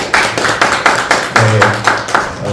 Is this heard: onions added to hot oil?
no